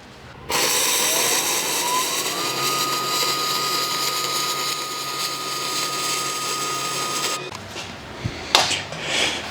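A loud, steady buzzing hiss of welding while tacking an aluminum horse trailer gate, running for several seconds before cutting off sharply, followed by a few faint clanks and handling noises.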